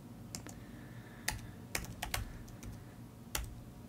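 Fingers type on a computer keyboard while coding, quiet irregular key clicks in small bursts over a low background hum.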